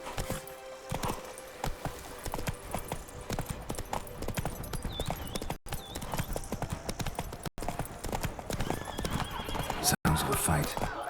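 Galloping hoofbeats from Roach, the horse in The Witcher 3, drum along steadily with a neigh breaking through, while someone talks over game music.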